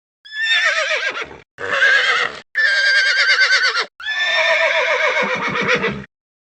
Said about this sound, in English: unused horse sounds